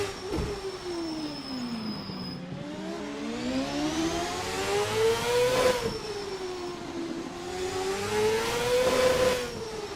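Race car engine in a 1999 CART race at Long Beach, as rendered in a racing video game, roaring steadily for the whole stretch with repeated rising and falling revs through gear shifts and corners, loud and close with no talk.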